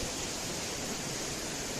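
A waterfall at a Makar Sankranti fair, a steady broadband rush of falling water that holds unbroken and fairly faint throughout.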